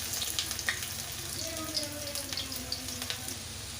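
Fenugreek, garlic and ginger sizzle quietly in a pan as they fry, a soft crackling bed with occasional pops and light stirring clinks, and a faint tonal hum running underneath.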